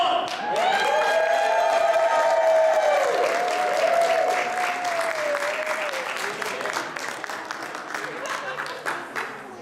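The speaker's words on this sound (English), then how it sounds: "Let's cheer them on!" An indoor audience at a Cub Scout Arrow of Light ceremony claps and cheers for the scouts, a loud burst of applause with whoops that gradually thins into scattered clapping.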